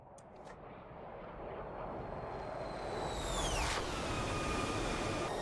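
Jet aircraft of 404 Squadron flying overhead in loose formation, a steady broad roar building slowly with a falling whine as one passes, continuous and moderately loud.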